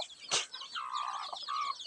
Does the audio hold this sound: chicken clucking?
yes